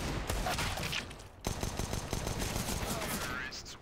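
Dense gunfire from a Counter-Strike match on Dust2, rapid bursts of automatic fire crackling continuously, with a louder sharp shot midway and Portuguese-speaking commentators talking over the game audio.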